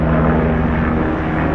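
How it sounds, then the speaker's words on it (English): A propeller airplane passes overhead in an outdoor Arizona setting, producing a steady, loud engine drone with a low hum that fills the whole moment, with no voices. "Now a plane is going overhead."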